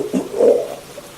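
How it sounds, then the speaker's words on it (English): A short, gurgling, strained cry like a creature in pain, made by a human voice for a hurt creature in the video game Genocide Dolphins, rising briefly and then fading out. "that noise is one of them getting hurt"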